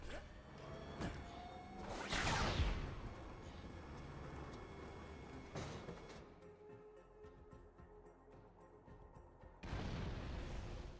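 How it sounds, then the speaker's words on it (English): Cannon blasts in the video game Borderlands 2: a couple of heavy booming shots with whooshing swells and a rumbling tail, alternating with quieter game ambience and ending on another loud burst, no voices. "Please fire the cannon again."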